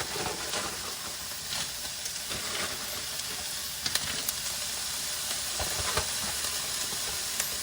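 Ground beef frying in a pan with white onion and green pepper: a constant hissing sizzle with occasional sharper pops and stirring scrapes, close and fairly quiet, no talking.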